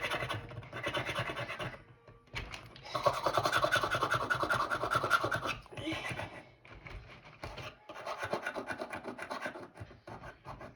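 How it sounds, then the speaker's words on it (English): Gunk stuck like glue is scraped off a computer keyboard, giving close, rough rasping and scratching strokes in uneven bursts with short pauses between them. "I'm trying scraping it off. It's like glue."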